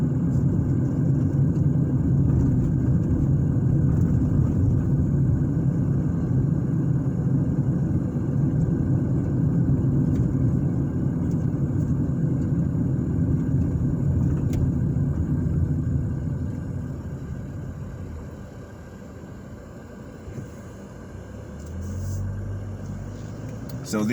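A car drives through the residential streets of northwest Indianapolis. Its low, steady engine and road rumble hold for about fifteen seconds, then ease off and grow quieter as the car slows.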